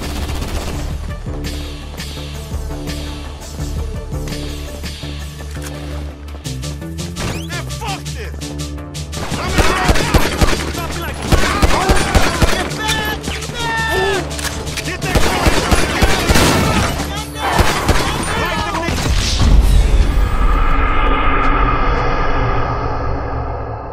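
Rapid bursts of gunfire from a GTA V shootout crackle loudly and densely, with clusters of shots and crashing impacts layered over a steady game music score.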